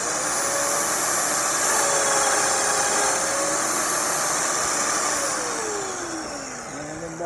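A domino joiner plunges into wood to cut a mortise, set to a 15-millimeter depth, giving a loud, steady motor whine that holds for several seconds and then winds down near the end.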